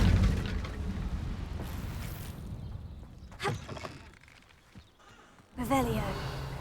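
Incendio fire spell cast in Hogwarts Legacy, several sharp whooshing bursts and a booming flare rising out of a low rumbling game background, with quieter gaps between the blasts.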